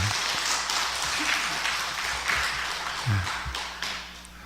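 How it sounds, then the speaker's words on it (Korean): Church congregation at a Sunday service applauding, a roomful of clapping that swells into a broad, reverberant wash and then tapers off slightly. "우리 박수 한번 하시죠"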